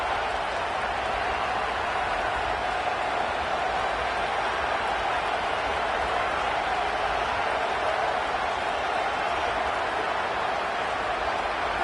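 A college football video game stadium crowd roars steadily, a broad wash of cheering and applause that stays loud and even with no distinct breaks.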